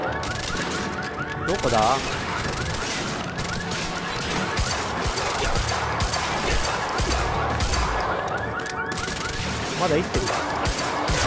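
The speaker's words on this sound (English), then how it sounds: "マシンガンが。" Rapid automatic gunfire rattles almost continuously through a Quantum Break firefight, with a dense, loud stream of shots and impacts. Someone speaks briefly over the shooting.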